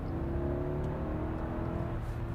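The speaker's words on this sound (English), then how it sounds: "how does it sound from the inside when I floor it in Maybach mode?" Inside a 2021 Maybach GLS 600 under full throttle in its comfort mode, the engine gives a low, muted rumble that builds steadily, subdued and smooth within the quiet cabin.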